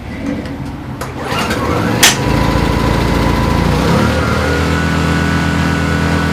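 Yamaha portable generator cranking with the choke on, catching after a sharp knock and settling into a steady, loud running drone.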